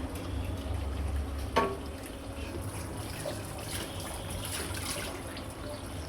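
Water runs steadily from a household tap during washing and cleaning work, a continuous trickling flow with a single knock early on and faint kitchen clatter in the background.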